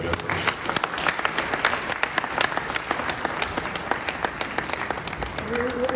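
Sustained audience applause fills a conference hall at a mining and minerals convention after a closing speech by the CEO of the Ghana Gold Board, dense steady clapping with a murmur of crowd and a voice faintly under it.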